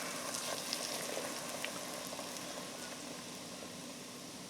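Beer pouring into a hot pan to deglaze beef stew, giving a steady, fairly quiet broadband sizzle with faint bubbling that holds evenly throughout, no voices.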